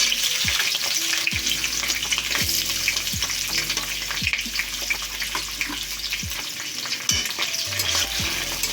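Chopped onion and green chilli frying in hot oil with bay leaf, a steady close sizzle with repeated scraping stirs of a spatula in the pan.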